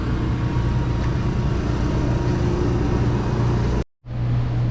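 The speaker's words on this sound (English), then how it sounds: "if you can hear, the generator is running" The generator on a 2017 Forest River Forester Class C motorhome runs with a loud, steady droning hum. It drops out abruptly near the end, then resumes.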